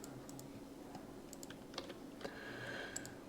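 Quick light tapping on a computer keyboard as a domain name is entered, a sparse run of soft clicks over a faint room hum, close and quiet, without speech.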